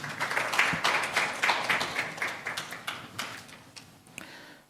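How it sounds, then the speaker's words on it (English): A small audience at a student symposium gives a presenter a round of applause: a short burst of clapping that swells briefly and fades within a few seconds, heard alone. "Can we please give her a round of applause again?"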